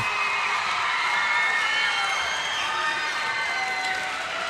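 A fired-up New Covenant crowd cheers after a girls high school basketball district title win, a loud, continuous roar of voices and whoops filling the gym without letup from start to finish.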